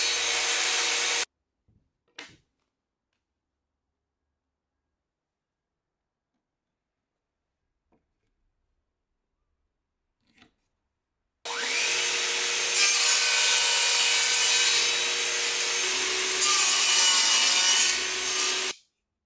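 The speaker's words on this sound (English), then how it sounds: "Now I can get the miter gauge set up and start cutting the pieces." Wood pieces cut with a saw set on a miter gauge: a short burst of rasping, a long quiet gap with faint ticks, then a loud sustained grinding cut close by.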